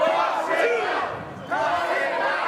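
A wrestling crowd at a live indoor show shouts and jeers at the referee, a loud, dense roar of many voices that dips briefly and then surges again.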